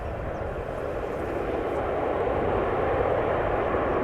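A Suparna Airlines Boeing 747 jumbo jet flies downwind on arrival at Amsterdam Schiphol, its distant engine roar swelling slightly and holding steady with no talk.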